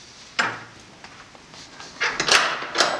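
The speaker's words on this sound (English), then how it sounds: "So I undo the kick bolt with my foot." A metallic clack of a stable door's kick bolt being knocked open by foot, followed by a few scraping rattles and knocks of the door's hardware, close and fairly loud.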